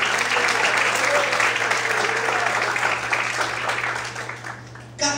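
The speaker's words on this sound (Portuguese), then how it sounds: "Você pode aplaudir o Senhor" Congregation clapping for the Lord at an evening church service, a broad, sustained applause from many people that gradually thins and softens before a brief final burst.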